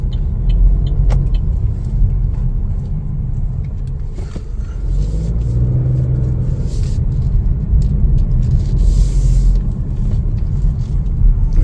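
A Chevrolet Trailblazer RS drives and accelerates on the road, a steady close engine and road rumble with a swelling rise of revs partway through, no voices over it.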